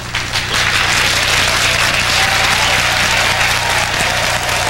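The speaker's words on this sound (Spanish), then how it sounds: "A ver, que aplaudan los señores." Live concert audience applauding at a show, a dense, steady wash of clapping from a large crowd that fills the whole stretch at full loudness.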